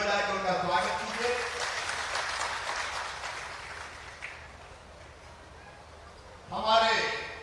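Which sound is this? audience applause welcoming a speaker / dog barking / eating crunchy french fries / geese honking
audience applause welcoming a speaker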